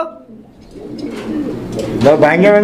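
Fancy pigeons at a pigeon sale coo in low, throaty, rolling calls close by, while someone talks over them.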